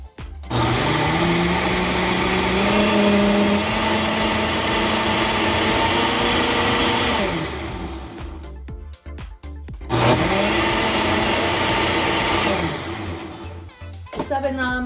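A blender motor regrinds salsa in two loud, steady bursts, the first running about seven seconds and the second about four, with a short pause between them.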